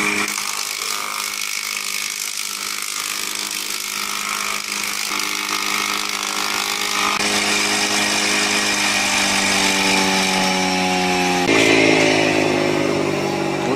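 A woodworking planer with a spinning knife drum runs loudly and steadily, its whine shifting in pitch as boards are fed through, close by with no talking.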